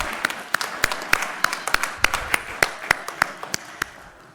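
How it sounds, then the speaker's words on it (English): A small group at an awards ceremony claps in slow, evenly spaced claps, each distinct and close, like a handful of people clapping in unison. "may I ask anyone that is an elected official to clap in recognition of the great work that all of you do"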